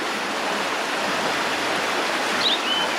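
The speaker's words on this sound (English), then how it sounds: "you actually have two streams following down" Two streams flow beneath a stone arch along the old West Somerset Mineral Railway, a steady close rushing of water with an even hiss and no voices, plus one faint high chirp near the end.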